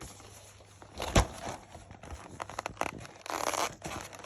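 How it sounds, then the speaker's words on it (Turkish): Packaging being unwrapped and torn open in a room, with crinkly scratching and tearing bursts, one sharp rip near the start and a louder rustling spell toward the end. "Şimdi gelin bunun paketini açalım."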